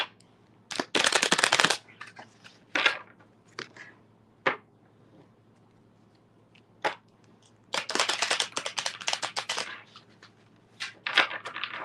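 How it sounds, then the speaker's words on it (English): Tarot cards are shuffled in irregular bursts, with crisp riffling rushes and brief flicks separated by quiet gaps, close and fairly loud. "Let me shuffle these cards really quick, Farah."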